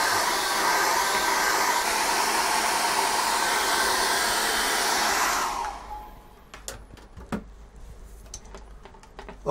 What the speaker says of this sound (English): Now, I'm gonna dry that off with a hairdryer.